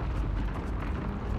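A rumbling explosion in Uncharted: The Lost Legacy rolls on as a continuous deep, dull roar with crackling debris, moderately loud and steady throughout, with no voices on top.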